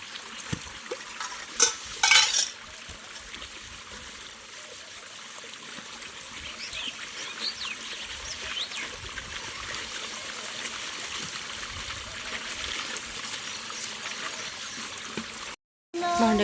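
Steady running water trickles and splashes for a long stretch, with occasional clinks of dishes and faint rustling nearby.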